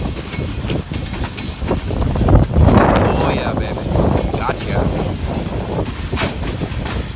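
A long freight train rumbles past on a very windy day, its steady clatter and wheel noise filling the clip with heavy wind buffeting the microphone, while someone speaks briefly over it.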